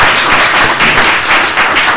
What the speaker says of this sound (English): Big round of applause for all the speakers.